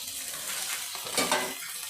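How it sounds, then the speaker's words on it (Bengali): Okra and potatoes stir-fried together in a pan: a steady close sizzle with spatula scrapes and a couple of louder stirring knocks near the middle, no talk. "ভেন্ডিটা দিয়েও ওপর নিচে করে ভালো করে নেড়ে দেবো"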